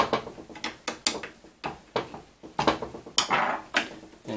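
Parts tightened down while assembling a RepRap Wilson TS 3D printer. About a dozen close, crisp mechanical clicks repeat in a steady ratcheting rhythm with no talk.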